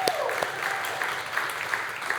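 An audience applauds at a church service. The steady, dense clapping holds at full level for the whole stretch.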